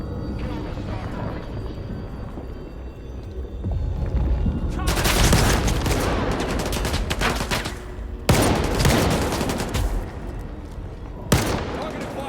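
Dense, close automatic gunfire rattles in the STALKER 2 Heart of Chornobyl video game, building into sustained bursts with sharp loud cracks, and shouted voices come through under it.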